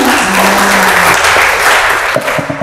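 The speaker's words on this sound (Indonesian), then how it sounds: "Tepuk tangan untuk Ibu Martina." An audience at a poetry anthology talk breaks into loud, close, continuous applause that thins slightly near the end, with a hint of voices beneath.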